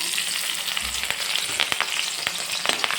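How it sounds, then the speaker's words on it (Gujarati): Green chillies fry in hot oil for a puffed-rice chevda, a dense, continuous sizzle with small crackling pops, close and fairly loud, no voices. "હવે હું મરચાં તરીશ અડધા કપ જેટલા"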